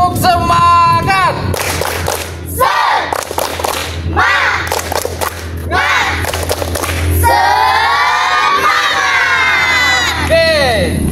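Children clap and shout a spirited cheering chant in rhythmic bursts during an outdoor physical education lesson on crouch starts for short sprints, loud and close, with high voices sustained near the end.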